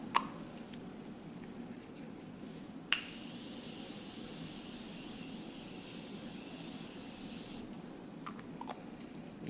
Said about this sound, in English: So I'm going to use the Morphe setting spray.